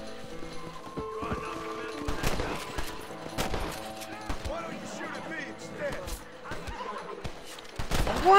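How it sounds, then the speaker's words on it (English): Repeated gunshots crack out in Red Dead Redemption 2 amid game noise, with a horse whinnying and other in-game sounds, the shots coming irregularly at close and moderate range and getting louder at the end. "Why is there constant shooting happening?"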